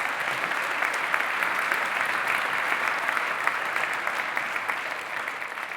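Steady audience applause fills a Geneva award ceremony hall, a dense, even patter of many hands clapping at moderate distance that holds without a break for several seconds.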